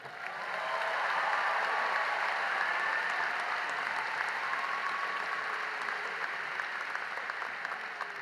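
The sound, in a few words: commencement audience applauding speaker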